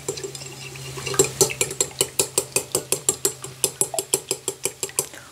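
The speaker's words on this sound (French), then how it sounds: "Ok, ich schlage die 2 Eier und dann rühre ich ein bisschen." Two eggs beaten for a leek quiche: a steady, quick run of sharp clicks as a utensil strikes the bowl about four times a second, close and fairly loud, with no voices.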